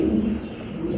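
Racing pigeons of the Maxi line at a pigeon farm coo in a steady, continuous low murmur, fairly close and loud throughout, with no talking.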